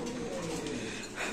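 Pigeons at a pigeon farm give soft, steady cooing, a low warbling drone that runs without a break for just over a second at moderate distance.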